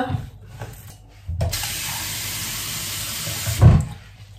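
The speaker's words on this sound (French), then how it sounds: "Et j'ajoute un bol, disons, équivalent d'une tasse d'eau" Water poured into a bowl holding chopped red onion, a steady close rushing stream for about two seconds ending in a brief splash, after some quiet handling noises.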